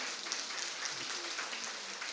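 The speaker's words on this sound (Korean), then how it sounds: "다시 한번 박수 부탁드립니다" A church congregation claps in thanks for its choir after a service, a dense steady wash of applause from a full room lasting a couple of seconds.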